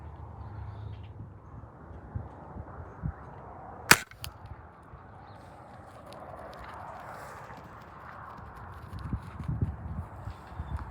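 Dart gun fired at a deer on a deer farm, a single sharp crack near the middle of the clip amid quiet outdoor rustling and handling noise, with no talk.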